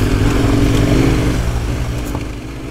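A KTM motorcycle rides along under a steady, close engine drone while overtaking, holding a constant throttle with wind noise over it.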